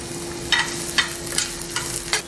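Chopped onion and green chillies fry in a pan while a spoon stirs them. Soft sizzling runs underneath, broken by about five short scraping strokes at a steady pace, with a faint tonal hum in the background.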